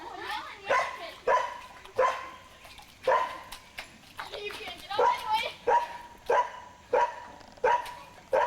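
A newly adopted young dog gives a series of about ten short, sharp barks or yips at a steady, nearly even rhythm, fairly close by, with people talking in between.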